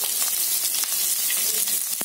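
Small and big onions with green chillies fry in hot oil in a Kongu-style goat blood dish, giving a steady, bright, loud sizzle with faint stirring scrapes and no talk.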